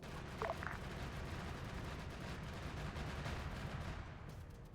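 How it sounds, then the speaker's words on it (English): Mortar shelling in Arma 3, with a continuous low rumble of distant impacts and gunfire rolling underneath, faint and even, with a couple of brief sharper cracks early on. "Just shell the entirety of keypad 1 with Raggy bomb mortars."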